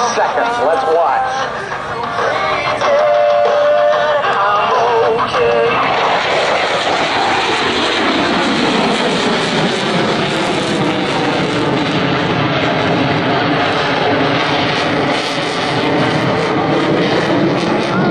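An F/A-18C Hornet fighter jet flies a slow-speed pass at an Air National Guard air show in Rhode Island, its loud engine roar swelling and sweeping in pitch over crowd ambience, with an announcer talking.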